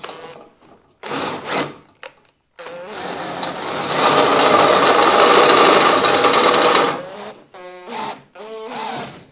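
A power tool whirs steadily for a few seconds, loud and close, with brief mechanical bursts and short pauses before and after.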